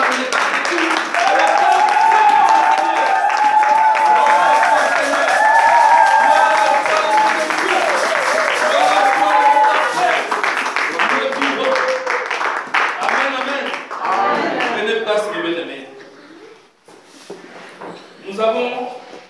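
A church congregation claps and cheers loudly in sustained, dense applause mixed with raised voices, thinning out toward the end.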